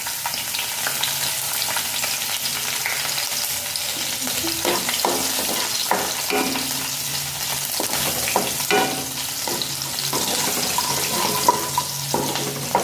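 Ginger and garlic frying with mustard seeds for home-style egg bhurji, with a continuous close sizzle, repeated spatula scrapes and a faint running-water hiss.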